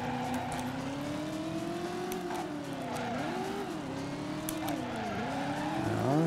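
Car from the video game Driver lapping a course, its engine tone rising and falling steadily while tires squeal through the corners, loud and continuous with no talk.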